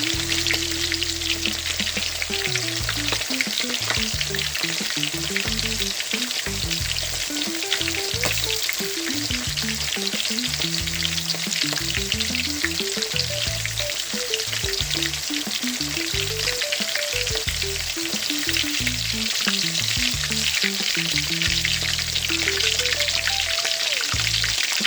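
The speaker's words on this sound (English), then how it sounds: "Start frying my saltfish." Saltfish pieces fry in hot oil in a steady, dense sizzle and crackle that lasts throughout, close and loud, for Jamaican escovitch saltfish, with a looping melodic tune playing underneath.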